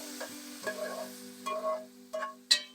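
Browned moose meat is stirred and scraped over a quiet, continuous sizzle while being moved into a Le Creuset cast-iron Dutch oven. Several close, sharp clinks and scrapes come at irregular intervals.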